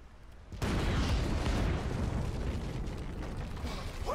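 Dynamite detonating in Red Dead Redemption 2: a sudden loud blast after a short quiet lead-in, followed by a sustained roaring rumble that slowly fades.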